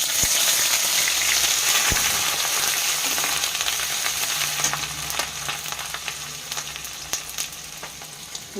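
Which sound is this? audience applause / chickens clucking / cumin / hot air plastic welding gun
cumin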